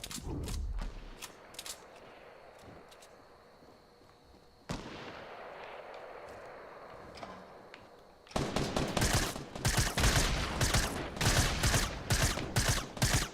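Rapid bursts of gunfire in Fortnite crackle and pop, sparse at first then turning into dense, loud sustained shooting.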